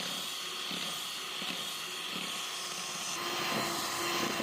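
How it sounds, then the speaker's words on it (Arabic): Electric mixer beating sugar and eggs for ammonia biscuits, a steady whirring hiss with faint rhythmic knocks as the beaters turn, continuous with no talk. "ونبتدي نضربهم لغاية ما السكر يدوب تماما"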